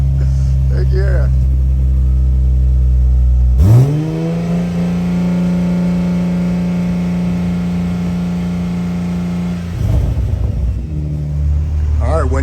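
A MkV A90 Toyota Supra fitted with a T51R turbo kit runs close by with a steady, heavy idle, revs up sharply once and holds a higher, droning pitch before dropping back down, with brief voices near the start and end.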